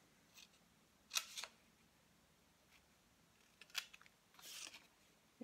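Scissors snip through paper for a scrapbook album pocket, a few short crisp cuts in separate bursts, close and fairly quiet against a faint room hush.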